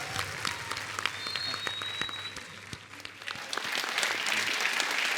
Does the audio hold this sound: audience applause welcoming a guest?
yes